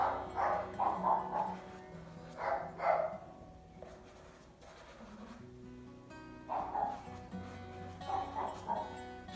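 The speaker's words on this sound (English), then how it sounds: "excuse the neighbors' dogs." The neighbours' dogs bark and yip in several uneven bursts, some with whimpering tones, fairly close and loud against a steady low background hum.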